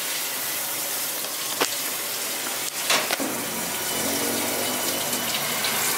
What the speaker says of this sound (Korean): 지금 설거지만 지금 네 번째 하고 있습니다